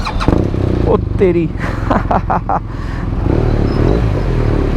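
A BMW R1200R motorcycle engine starts up and revs, its loud, steady running filling the scene while someone speaks excitedly over it.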